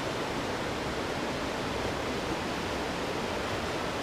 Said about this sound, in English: we've got a lovely waterfall here, look.